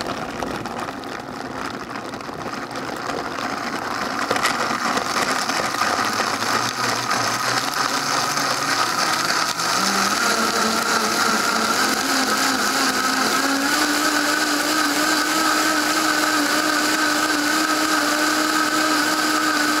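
A blender whirs continuously while making an Ayurvedic morning shake, the motor rising in pitch and settling into a loud, steady drone for nearly twenty seconds, no talking.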